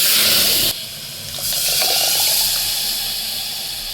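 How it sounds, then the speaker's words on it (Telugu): Hot oil tempering poured into fenugreek-leaf dal sets off a loud, close hiss that drops suddenly, then swells again into a steady steamy sizzle. "పోపు అయితే బాగా వేగిపోయిందండి ఇప్పుడు తిరగబోత అయితే"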